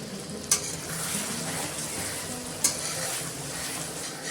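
Mutton brain fries in a pan for bheja fry, giving a steady, close sizzle throughout with two sharp utensil clinks against the pan.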